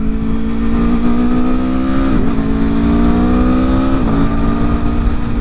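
A 2021 Aprilia Tuono motorcycle engine hums steadily while riding on curvy roads, holding a loud, close drone with two brief dips in revs as the rider shifts or rolls off the throttle, then picks back up.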